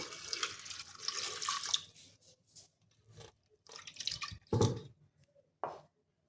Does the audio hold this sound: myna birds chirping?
no